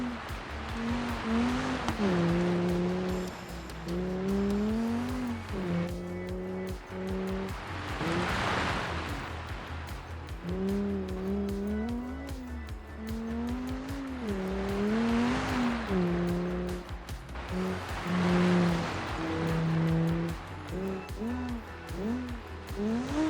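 A turbocharged 2.1-liter five-cylinder Audi Group B rally car engine in BeamNG revs and shifts repeatedly, rising and falling in pitch with rushes of intake noise, loud and continuous.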